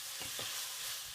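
Garlic, ginger and onion fry in a pan over medium heat, giving a steady, close hiss of sizzling with a couple of soft stirring scrapes and no talk.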